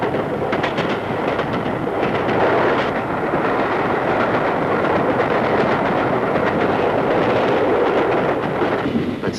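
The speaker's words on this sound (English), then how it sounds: "The loud hiss of steam as the train seems to slow" Steam express train running on rails, a loud, dense, continuous rumble and rush with faint rhythmic clatter, heard close and steady throughout.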